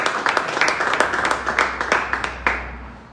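A church congregation applauds during a French-language intercession service, a short burst of fairly close, uneven clapping that thins out over a few seconds.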